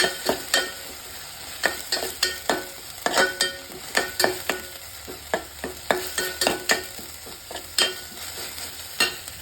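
Sardine curry masala frying in a pan, stirred with repeated sharp scrapes and clinks of a spoon over a continuous sizzle, close and fairly loud in an irregular rhythm.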